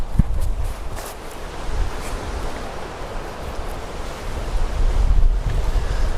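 Strong wind roars outdoors in the mountains in a continuous low rumble, easing briefly and then rising again in heavier gusts near the end.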